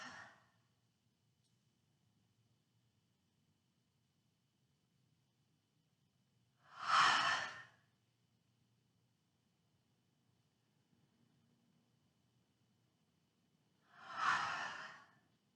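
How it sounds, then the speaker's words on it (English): Slow, deep breaths during a tai chi session, three long airy exhalations spaced about seven seconds apart, close and soft over near silence with no talking. "Breathing long and deep."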